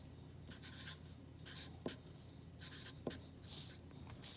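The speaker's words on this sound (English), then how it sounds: "paper's moving." Pen on paper scratches in short, quiet bursts close by as someone writes out numbers, with paper shifting between strokes and no voices.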